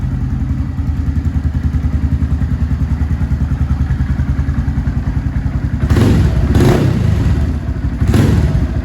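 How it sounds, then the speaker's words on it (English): A Honda Grom motorcycle idles after an oil change, its small engine thumping in a close, steady, rapid rhythm, with a few brief louder clattering blips near the end. "Just gonna let it run for like a minute and then wait 5 minutes and then check the oil again."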